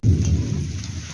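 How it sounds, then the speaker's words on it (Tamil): A thunderstorm over a village: a deep rumble of thunder rolls in and fades slowly, with steady heavy rain hissing beneath it, loud and close. "இது பாருங்கள், மழை வந்துருச்சு, இடி இடிக்குது, நிறையா பெய்யுது."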